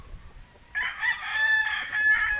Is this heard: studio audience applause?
no